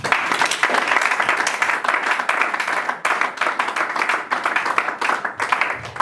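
A church congregation claps steadily in acclamation of the Lord, continuous dense applause at close range with little talk.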